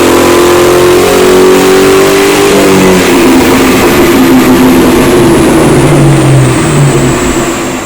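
A 1998 Ford Mustang GT V8 on a chassis dyno roars through a power run, very loud and close, its pitch climbing steadily through the gears with a brief dip at each shift, then easing off near the end.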